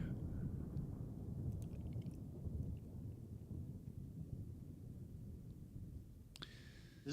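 Thunder rumbles in Microsoft Flight Simulator 2020 around a parked FSLabs A321 in Ecuador. A continuous low, heavy roll with rain-like hiss lasts the whole stretch, and brief cockpit clicks and a tone come near the end.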